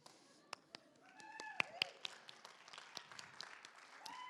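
Convention Q&A audience clapping at a Star Trek: The Next Generation panel, scattered faint claps building into a steady soft applause with a few sharp louder claps and vocal reactions.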